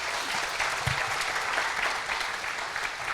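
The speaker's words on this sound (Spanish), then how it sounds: "Let's give a round of applause to Him." A congregation claps together at a church sermon, sustained and fairly loud, a dense wash of hands filling the space with no speech over it.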